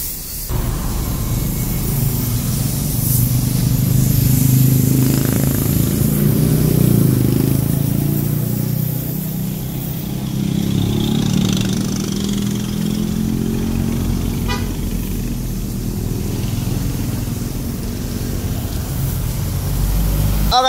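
A power spray blasting water over a radiator body during cleaning, a steady loud hiss with a low engine-like drone beneath, running continuously from start to end.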